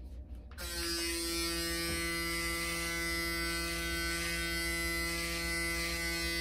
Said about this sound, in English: I'm gonna try a section of my beard with this pop-up trimmer.